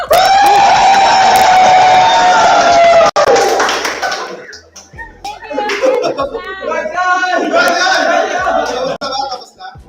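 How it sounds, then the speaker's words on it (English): Crowd at an esports event applauding and cheering, loud sustained clapping with high whoops and screams, dipping briefly before another burst of cheering and clapping with chatter mixed in. "One more applause."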